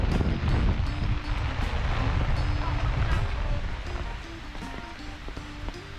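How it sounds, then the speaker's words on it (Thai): Heavy rain pours during a storm at Saeng Chan waterfall in Pha Taem National Park, Ubon Ratchathani, a dense, steady roar close to the microphone with wind buffeting throughout. "โอ้พี่น้องฝนตกครับนี่"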